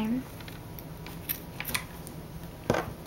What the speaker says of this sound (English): And you want to make sure you cut. You cut your strings.